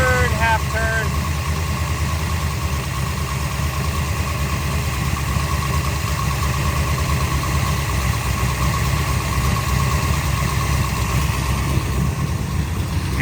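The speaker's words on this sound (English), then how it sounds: "It's idling down some now." A big block 1965 Shelby Cobra engine idles in a garage, a loud, steady, close mechanical rumble with a constant vibrating drone that holds unbroken throughout, while a faint voice speaks briefly near the start.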